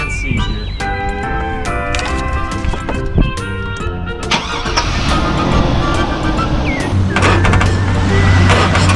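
A car engine starts after a few clicks and knocks, then settles into a loud, close, continuous running rumble.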